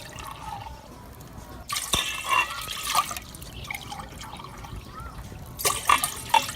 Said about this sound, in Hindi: पतीली में शामिल करेंगे 3 कप पानी